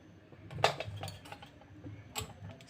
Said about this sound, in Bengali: এখন আমি ওই কড়াইয়ের মধ্যে এটিকে বসিয়ে দিচ্ছি।